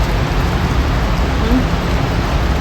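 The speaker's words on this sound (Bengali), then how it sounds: "ভালোই বৃষ্টি হইতেছে দেখুন।" Steady heavy rain on a mild rainy day in Canada, a dense continuous hiss and patter close by with no pauses.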